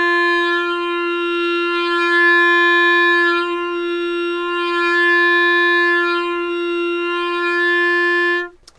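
A clarinet holds one long steady note, sounded first with the instrument raised and then lowered, its tone swelling and dipping slightly in brightness before cutting off abruptly at the end; no one speaks over it.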